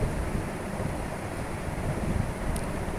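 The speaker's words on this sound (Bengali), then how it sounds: "পানিটা উতলাতে শুরু করেছে" Water with oil and salt comes to a boil in a pan for noodles, making a dense, even rushing bubble close to the microphone.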